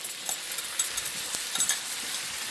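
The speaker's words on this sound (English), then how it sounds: "I'm going to go ahead and add that soy sauce mixture right into my meat." A soy sauce mixture is stirred into sizzling meat and softened onions for egg roll in a bowl, with a steady, close frying hiss and light scraping stirs throughout.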